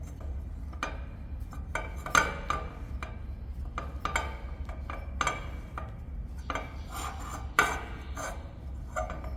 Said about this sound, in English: you wind in the handle, which advances the cutter until you cut the piece of material in half